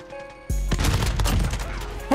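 Holger-26 automatic gun in Modern Warfare firing a sustained rapid burst that starts abruptly after a brief quiet moment, loud and close with dense overlapping shots, and no talking over it.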